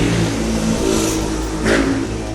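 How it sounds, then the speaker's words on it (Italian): Motorcycles pass by near a café bar, a loud engine roar swelling and fading as they go past, close and continuous over a low rumble, with no talk. "Qua ci sono le moto che passano"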